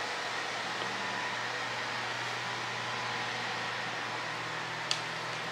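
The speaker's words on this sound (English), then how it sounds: "Sorry for the noise, it's the AC if you hear it." Air conditioner in a room humming steadily as a constant, faint broadband whoosh with a low drone, continuous and unchanging apart from a brief tick near the end.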